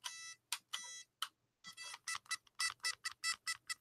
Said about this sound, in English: It has a little timer, little battery operated timer.